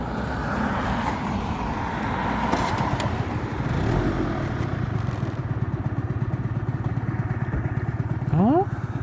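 A Honda Dio AF34 scooter being ridden just after service, its small engine giving a steady, close buzzing drone throughout with wind rush and a brief rev near the end.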